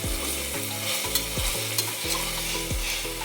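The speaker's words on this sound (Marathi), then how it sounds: "कांदा हलकासा गोल्डन ब्राऊन झाला की आपल्याला त्यामध्ये थोडीशी कोथिंबीर घालून घ्यायची आहे" Onions fry golden brown in oil with coriander stirred in, a loud steady sizzle broken by repeated scraping spoon strokes and low pan thumps in an uneven rhythm, no voices.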